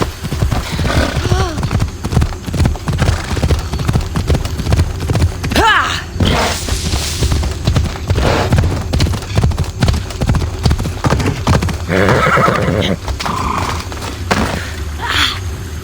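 A horse gallops steadily in Assassin's Creed Odyssey, its hooves clopping in a fast, continuous rhythm close by, with occasional whooshes and thuds and a voice speaking over the ride.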